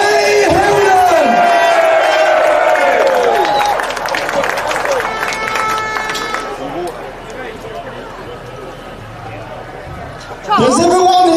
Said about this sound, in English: So please give a huge round of applause to our guest speaker